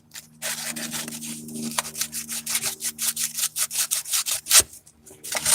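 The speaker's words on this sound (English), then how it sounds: "what I'm doing is I am sanding this as I'm trying to find it" A pipe fitting for PEX tubing on a solar hot water heater is sanded by hand in quick, rhythmic rasping strokes that speed up and grow louder, close by, with a faint steady hum underneath and no talk.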